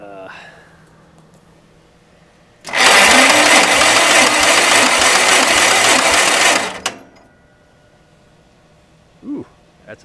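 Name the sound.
old engine cranking with a metal-on-metal noise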